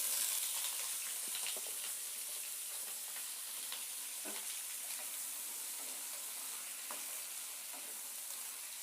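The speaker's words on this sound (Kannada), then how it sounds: "ಎಣ್ಣೆಯಲ್ಲಿ ಆಲೂಗೆಡ್ಡೆ ಸ್ಲೈಸ್ ಏನಿದೆ ನೀರಿಂದ ತೆಗೆದು ಅದನ್ನು ಸ್ವಲ್ಪ ಫ್ರೈ ಮಾಡಿ ಇಟ್ಕೋಬೇಕಾಗತ್ತೆ" Potato slices frying in hot oil in a pan for an aloo capsicum masala gravy, giving a steady broadband sizzle with faint crackles throughout and no voices.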